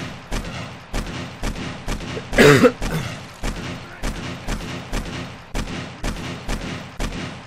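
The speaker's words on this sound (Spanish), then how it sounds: "¡Que me está disparando a mí" Gunfire in 7 Days to Die, with the True Survival mod: evenly spaced single shots ring out about every half second, with one heavier, louder blast partway through, and no voices.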